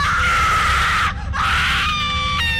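A woman screams hysterically in a horror story sound effect, loud and sustained, briefly breaking off midway before resuming over a low background rumble.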